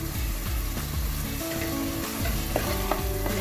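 Onions, tomatoes and parsley sizzle in a pan while being stirred, a constant frying hiss broken by scraping utensil strokes and soft clacks.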